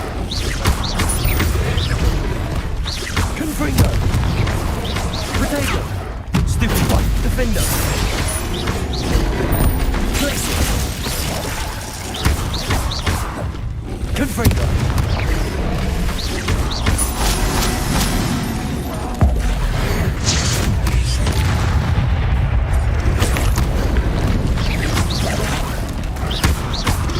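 Confringo blasting spell explosions during combat in Hogwarts Legacy, dense repeated booms, crashes and cracks under continuous battle noise, with shouted voices mixed in.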